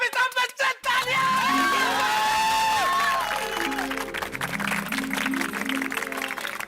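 A crowd at a gathering in Gokuldham society cheers loudly and claps after Amitabh Bachchan's name is called out, a dense, sustained roar with whoops, shouting children and musical tones rising over it.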